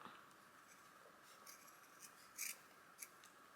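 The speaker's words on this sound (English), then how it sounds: "Let's cut out a heart." Scissors snipping a paper heart out of a junk journal page, a few faint, close blade closes and rustles scattered over a quiet background.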